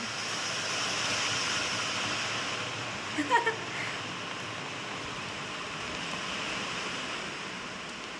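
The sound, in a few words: heavy rain falling on a metal sheet roof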